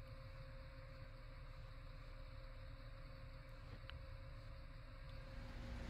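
Steady low engine drone of a tractor straining up a steep hill in Farming Simulator 2015, a continuous loud hum with constant tonal bands and no speech over it.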